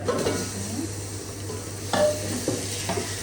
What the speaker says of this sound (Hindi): गोश्त को करते हैं अच्छे से फ्राई